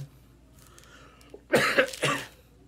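Two quick, harsh coughs close to the microphone after a moment of quiet room noise.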